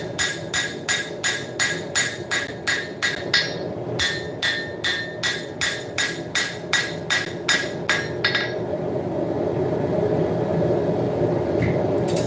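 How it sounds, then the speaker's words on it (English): Rapid, evenly spaced hammer blows ring out as a .50 cal machine gun barrel is forged, loud sharp metallic strikes for about eight seconds before stopping, leaving a steady background hum. "start forging. Start forging that down."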